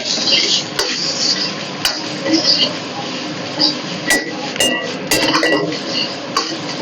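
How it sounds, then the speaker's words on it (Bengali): Chopped raw vegetables for hot and sour soup being lightly sautéed in a pan, a steady soft sizzle with sharp clinks of a utensil against the pan, under a person talking. "তাই এগুলোকে আমি হালকা করে সতে করে নেবো।"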